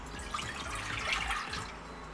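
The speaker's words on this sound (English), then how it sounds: "in a saucepan, we're going to take 2 1/4 cup of milk" Milk poured from a cup into a saucepan, a steady liquid stream splashing and gurgling for about two seconds with no talking.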